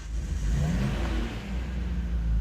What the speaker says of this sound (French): On débraye, on tourne le moteur.